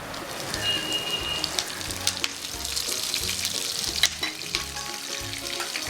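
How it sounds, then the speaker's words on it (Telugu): Peanuts fry in a pan with a close, steady sizzle and crackle, broken by a few sharp clinks and stirring scrapes, no talking. "కొన్ని పల్లీలు, ఇవి కొంచెం మంచి కలర్ వచ్చే వరకు వేయించుకోవాలి"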